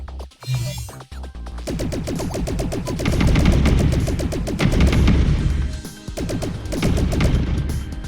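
Rapid bursts of synthetic gunfire and booming blasts from the video game Asteroids Millennium, dense and loud, with brief pauses between volleys.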